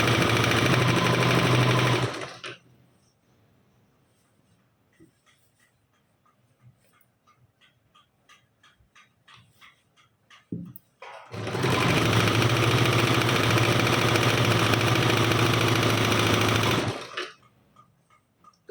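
An electric sewing machine stitches the pleats of a frill dress in two loud, fast bursts of rapid clatter, separated by a quiet stretch of faint handling noises.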